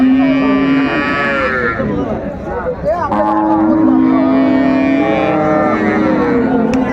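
A dairy cow moos in long, drawn-out calls at Raniganj cattle market in Dinajpur, one at the start and another stretching through the middle, loud and close over steady background noise.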